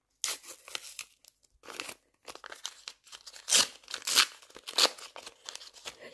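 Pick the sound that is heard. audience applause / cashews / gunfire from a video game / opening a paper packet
opening a paper packet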